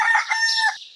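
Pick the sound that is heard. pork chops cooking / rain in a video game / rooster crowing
rooster crowing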